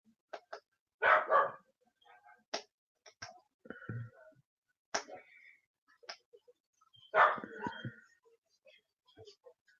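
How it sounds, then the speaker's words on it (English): A dog barks and grumbles in short, irregular bursts, several sharp barks with quieter whines between, close by in an otherwise quiet room. "I don't know if you can hear the dog complaining in the background."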